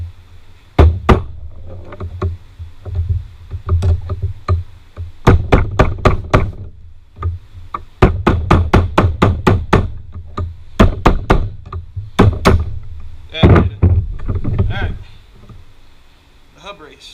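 Repeated hammer blows knocking a front wheel hub bearing race out of a hub, loud sharp metallic knocks in uneven bursts and clusters, close up, with pauses between runs of strikes and occasional talk.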